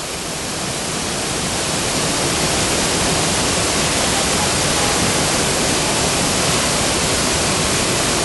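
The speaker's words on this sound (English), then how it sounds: "there's just waterfall after waterfall" A waterfall on the Ingleton Waterfalls Trail in the Yorkshire Dales roars as a loud, unbroken wash of rushing water, close and constant throughout with no voices.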